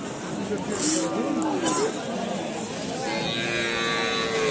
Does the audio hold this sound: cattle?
yes